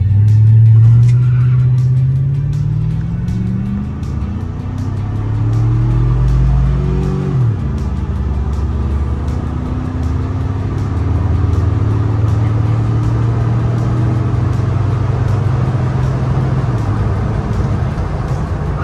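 Two vehicles, a Ford Bronco base model and a Chevrolet Silverado, launch side by side in a drag race, loud engines revving up through rising gear-like sweeps and a shift, then holding a steady roar close by.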